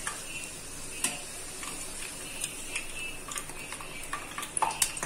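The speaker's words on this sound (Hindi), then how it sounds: "एक समय पर एक ही पॉकेट को फ्राई करना है" Cheese pocket snack frying in hot oil, one pocket at a time, a faint steady sizzle dotted with irregular small ticks and pops throughout.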